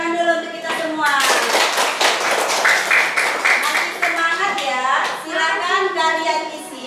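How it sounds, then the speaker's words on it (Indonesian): A primary school class claps hands together in a classroom, a burst of several seconds of brisk clapping, while a teacher and children talk over and around it. "Oke, tepuk tangan dulu untuk kita semua."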